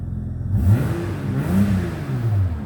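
A 1996 Rover Sterling's engine revs up and settles twice in quick succession, a close, loud mid-pitched roar rising and falling with no one talking.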